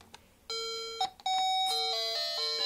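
An electronic baby cot mobile toy from Tesco plays clear, close beeping tones, a short chime followed by a steady run of bright electronic notes with no voices.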